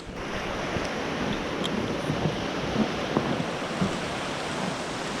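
A winter river rushes past old pillars and a wall in a continuous full, broadband roar, with some wind buffeting the microphone.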